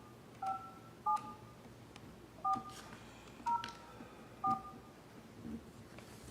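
Telephone keypad tones sound in a slow sequence of about six short, evenly spaced beeps, faint against a quiet room hum during a town historic district review board meeting.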